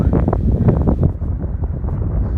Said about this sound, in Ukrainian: Але вітер таке враження, що вже став менший.